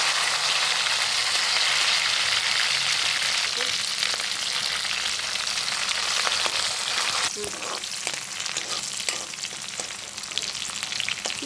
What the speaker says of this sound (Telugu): ఇవన్నీ అయితే ఈ విధంగా బాగా వేయించుకోవాలి